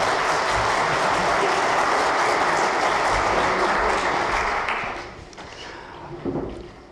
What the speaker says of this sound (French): on peut les applaudir, ils aiment ça